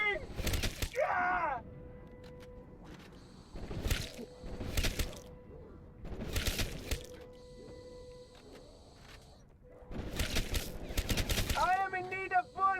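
Gunfire from the FFAR assault rifle mowing down zombies on the Moon map of Black Ops 3, coming in several loud rapid-fire bursts separated by short pauses, with game sound effects in between.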